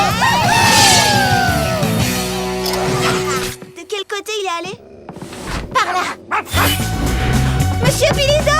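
Barking from a cartoon dog in the Totally Spies animated series, a few yips and bow-wows mixed into busy music and effects, with voices talking around it.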